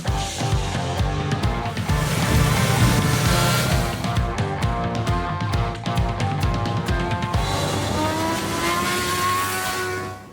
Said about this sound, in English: say hello to the BMW